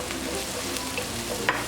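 Pepper chicken with crushed black pepper frying in a pan, a dense, continuous sizzle with a light stirring scrape, close and steady throughout.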